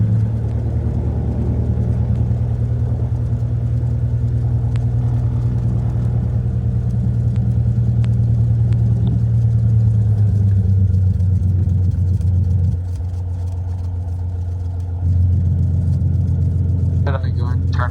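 A Cessna 182's engine drones loud and steady inside the cabin as it throttles up for takeoff, a constant low rumble with a brief dip near the end while people talk over it.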